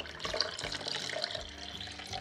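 Water poured into agar-agar while making a coconut-milk plant yogurt, a close, steady trickling splash lasting a couple of seconds, with small bright droplet sounds over it and no talking.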